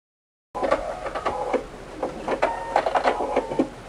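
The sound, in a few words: sewing machine sewing a quilted velvet tree skirt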